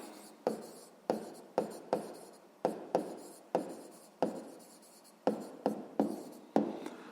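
Chalk or marker strokes on a classroom board during a sixth-grade maths lesson, a dozen sharp taps and short scratches in an uneven rhythm, close and clear with no talk.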